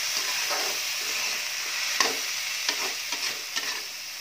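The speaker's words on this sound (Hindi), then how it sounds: "अब हम ये जो उबाल के चना रखे हुए हैं उसे हम डालते हैं, ये डाला देखिए" Boiled chickpeas tossed into vegetables with radish frying in a pan, giving a steady bright hiss of sizzling oil with a few scraping stirs and light clicks of a spoon, close and alone.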